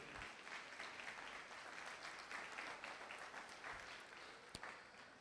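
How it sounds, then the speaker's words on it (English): Applause for a student band at a school open house: a crowd claps steadily and evenly throughout, moderately loud and diffuse, with no voices standing out. "how about a round of applause for the Trill Seekers who are playing for you?"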